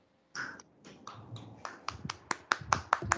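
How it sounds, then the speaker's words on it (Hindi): Applause for a young student at a Hindi Diwas school assembly: a few scattered hand claps start up after a short silence and grow into brisk, sharp, close-up clapping that gets louder and denser by the end. "तो हमारे नन्हे कभी युवान शर्मा के लिए जोरदार तालियां हो जाएं।"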